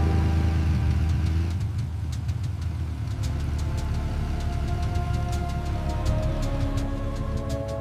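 An AI-generated sleek black motorcycle engine hums and rumbles steadily at close range, with a ticking, clicking pulse running over the drone and no voices.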